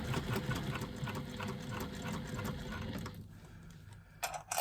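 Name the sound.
sewing machine stitching faux leather piping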